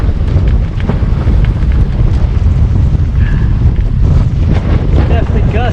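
Strong, gusty wind roars and buffets the microphone aboard a small sailboat out on the Atlantic, a continuous loud rush with surging swells and faint sounds of water and the boat beneath.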